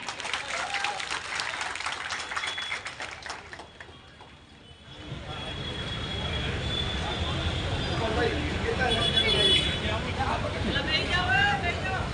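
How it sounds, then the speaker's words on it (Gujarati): Crowd applause at an outdoor political rally in Jhanda Chowk, Gandhidham, Kutch, welcoming Gopal Italia, a dense clapping roar that swells and holds after a brief lull, with a voice over a loudspeaker at the start. "ગોપાલભાઈના માનમાં એક જોરદાર તાળી થઈ જાય"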